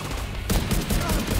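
Loud burst of gunfire in the shooter Tom Clancy's The Division 2, sharp reports jumping in abruptly and continuing in a rapid, dense volley over background game noise.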